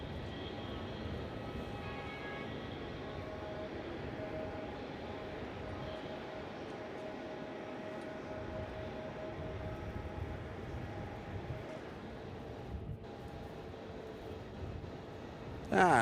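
Qatar Airways aircraft moving at Melbourne Airport, a continuous distant engine drone and low rumble holding steady throughout, with faint tonal whine and a brief louder bump at the very end.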